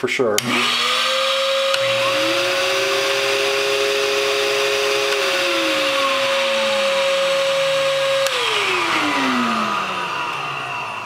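Record cleaning machine vacuum motors, an Okki Nokki and a VPI 16.5, whining steadily as one spins up and winds down, the pitch gliding then holding, with a steady motor drone and hiss beneath.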